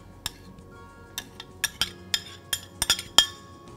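Utensil clinking against a bowl while banana pieces are stirred for a fruit slaw, a series of sharp, close, irregular metallic-glassy taps in otherwise quiet surroundings.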